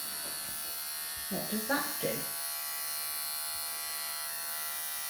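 Pet hair clippers buzz steadily and close up near a five-month-old Persian kitten, a constant electric whine running throughout while a person speaks briefly over it.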